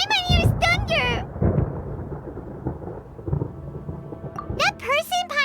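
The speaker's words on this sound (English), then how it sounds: "Paimon hears thunder!" Thunder rumbles through a stormy scene in the video game Genshin Impact, a low rolling roar lasting several seconds, framed by bursts of high character vocalizations and chatter at the start and end.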